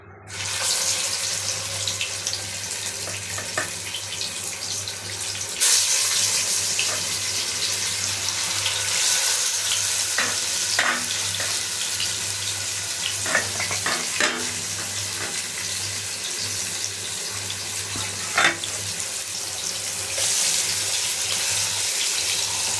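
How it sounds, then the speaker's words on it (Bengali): Fish from the Arabian Sea frying in olive oil in a pan, giving a loud, continuous hiss and crackle that runs steadily with small spitting pops and no talk. "ফিশ ফ্রাই করে নিব, বোনা করব ফিশ।"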